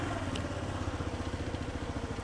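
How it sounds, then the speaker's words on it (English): A motor revved steadily near a beach during a bus-life outing, its low engine drone pulsing in an even rhythm throughout, close and fairly loud, with no talking over it. "Cole's over here revving his motor."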